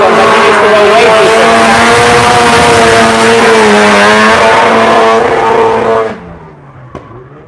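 A drift car at a practice session in Cyprus revs hard on the track, its loud, steady engine note rising and holding for about six seconds before cutting off abruptly, followed by a faint distant engine tail.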